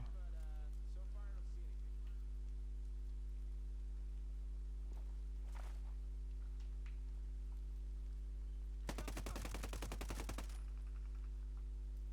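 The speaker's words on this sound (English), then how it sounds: "AK-47." An AK-47 fires a rapid automatic burst of about a second and a half in the shooter game Ghost Recon Breakpoint, partway through under a steady electrical hum, with a few faint clicks before it.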